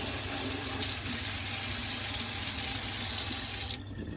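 Water from a tap rinses an AeroPress Premium metal and glass coffee maker, a loud steady close splashing rush that stops abruptly near the end.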